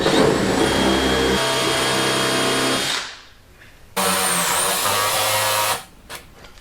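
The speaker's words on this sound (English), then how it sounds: "Now I can go ahead and step drill." A step drill bit whines steadily through a carbon fiber car hood in two long, loud bursts, spinning down between them and at the end.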